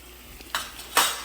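Fried onions with salt, red chili powder and spices stirred in a pan, two quick scraping strokes of a spoon over a faint background sizzle, close and fairly loud, no talking.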